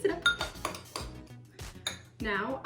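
A spoon stirs microwaved oatmeal in a bowl, giving a run of close clinks and scrapes against the dish, with soft knocks between strokes and a brief voice-like sound near the end.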